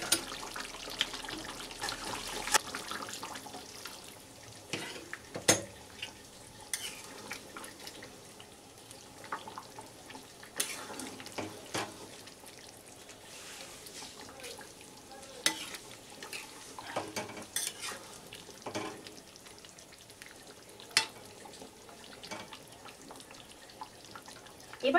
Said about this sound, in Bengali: আমি এখানে একটু গরম জল অ্যাড করব